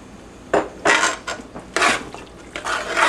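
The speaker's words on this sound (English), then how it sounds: "Stir that in there." Metal utensil scraping and clinking against a pot while lemon juice and cilantro are stirred into eggplant puree, a series of irregular close strokes separated by short gaps.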